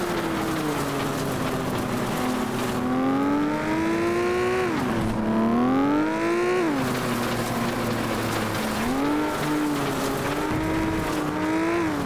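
A car in the FlatOut racing game drives hard with a loud, constant engine drone that rises and falls as it revs and shifts through gears.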